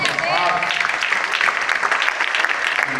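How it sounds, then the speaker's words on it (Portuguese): A church congregation applauds after a sermon at Igreja Batista da Lagoinha, steady clapping filling the room with a voice carrying over the crowd. "Vamos aplaudir a Senhor pela sua palavra"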